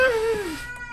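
A single short, close cat meow with a falling pitch in the horror video game Erie, then a faint trailing tone.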